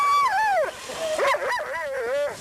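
Sled dogs before a dog race, loud close yelping and whining with rising and falling pitched cries over a rapid rhythmic pulsing underneath, continuous throughout.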